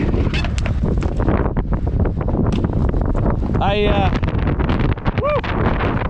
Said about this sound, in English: kind of windy now.